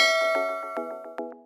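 A bright notification bell dings several times in quick succession, each metallic chime ringing clearly with no other sound around it.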